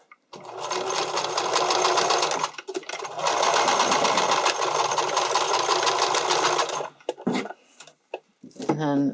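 A sewing machine stitching a bikini top seam, two long bursts of rapid mechanical needle chatter separated by a short pause, followed by brief handling noises and a voice talking.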